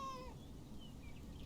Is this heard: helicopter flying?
no